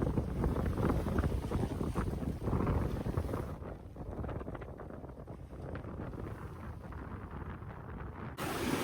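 A sailboat runs offshore in the Mediterranean, with steady rushing wind buffeting the microphone and water washing along the hull, a loud continuous roar that eases slightly midway before gusting again.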